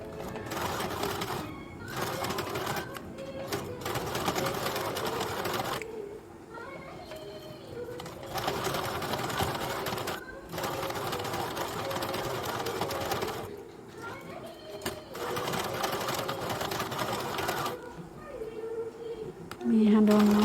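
Sewing machine stitching pieces of a deep-neck blouse, bursts of rapid mechanical whirring of several seconds each separated by short pauses, fairly close, with a voice talking at times.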